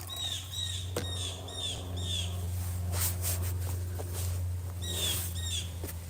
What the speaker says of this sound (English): There's that baby bird again that was like trying to get my attention.